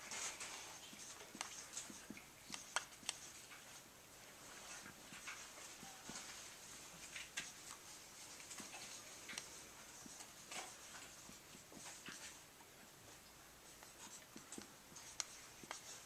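Pen or marker writing out a geometry solution on a board, a steady run of faint scratchy strokes and taps continuing without speech.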